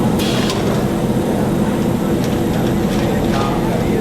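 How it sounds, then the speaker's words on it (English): Machinery filling and sealing bags of horse feed at a farmers cooperative in Frederick, a dense continuous mechanical rumble with faint periodic clicks and thumps. "That's the sound of bags of horse feed being filled and sealed at the Farmers Cooperative"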